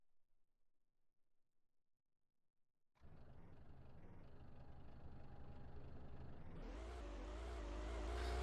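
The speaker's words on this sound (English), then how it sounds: "I think this may be one of the buses that is flying around the stadium right now." A bus drives around a football stadium. Silence is broken by a sudden engine rumble that holds steady and then swells louder as it nears, with no voices.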